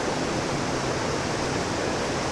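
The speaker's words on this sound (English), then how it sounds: "get more intimate shots of these waterfalls here, cascades" Steady broadband rush of water pouring over the waterfalls and cascades of the Little Patuxent River, a dense, even roar that holds unchanged throughout, with no voices.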